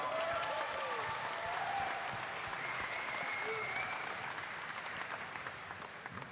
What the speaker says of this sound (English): let's give these two fighters one more round of applause.